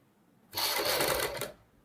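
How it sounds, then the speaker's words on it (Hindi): A sewing machine stitching a lotus-shaped kurti neck runs in a single short burst of about one second, a close, even whirring rattle that starts and stops abruptly. "एक साइड से हम शुरू करेंगे सिलाई लगाना"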